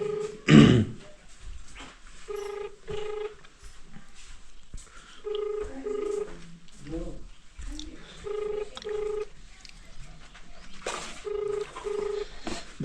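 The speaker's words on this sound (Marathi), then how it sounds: "फोन काय उचला नाही हरी." An unanswered phone call rings out as a repeating ringback tone of paired beeps, fairly clear over a quiet room, with a throat clearing near the start.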